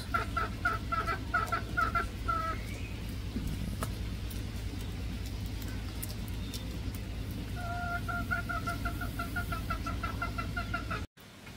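Chickens sheltering from light drizzle cluck in repeated bursts, close and clear at first, then a quieter stretch over a low steady hum before the clucking picks up again.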